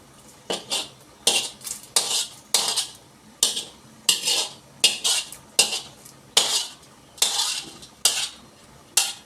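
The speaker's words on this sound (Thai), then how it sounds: "ต้มข้าวต้มแล้วก็เทลงไปเลยครับ เทลงไปใส่หม้อข้าวต้มครับ" Boiled rice is tipped into a pot of minced pork for Thai rice soup, with repeated metallic clanks and scrapes of a utensil against the pot in a steady rhythm, close by.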